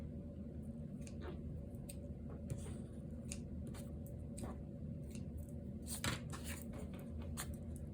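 Scissors trim paper for a journal. Faint, scattered snips and crisp paper rustles sit over a low, steady background hum, with no voices.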